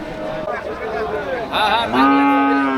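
A cow at a busy Bangladeshi cattle market for Qurbani lets out a long, loud moo close by, rising and holding its pitch, with market chatter underneath.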